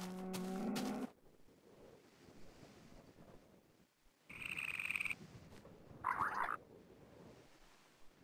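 Cows moo in a Minecraft world of green hills and flowers, a few distinct lowing calls at moderate distance over a soft ambient wash, with no talk.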